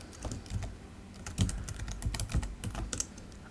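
Typing on a computer keyboard during a design-software tutorial, a quick run of close, crisp key clicks in uneven bursts with no speech.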